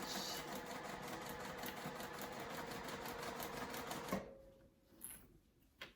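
A sewing machine runs a steady rapid back stitch at 2.5 stitch length on a zippered crossbody bag, a continuous close mechanical whir that stops abruptly near the end, followed by faint handling.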